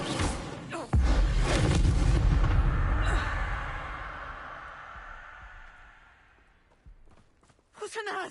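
Casting the Incendio fire spell in Hogwarts Legacy sets off a sudden loud whooshing blast. It swells into a roaring burst that fades slowly over several seconds, and sharp crackling noises follow near the end.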